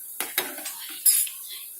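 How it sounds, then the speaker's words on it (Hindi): Semolina balls frying in oil are stirred with a metal utensil, giving a few sharp clinks and scrapes against the pan over a soft, faint sizzle. "बॉल्स को हमें बीच बीच में ऐसे चलाते रहना है, इसे चारों तरफ से अच्छे से सिक जाए।"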